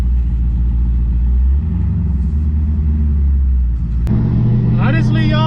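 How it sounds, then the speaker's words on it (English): A stage 2 cammed Pontiac G8 GT accelerates, its deep, loud engine rumble filling the cabin and shifting in tone partway through as the revs climb. "I'm gonna go ahead and put some gas."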